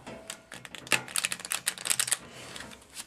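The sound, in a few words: shuffling a deck of cards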